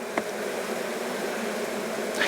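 Honey bees hum in a steady, soft, continuous drone during a beekeeping hive inspection, heard up close with one or two faint clicks and no voices.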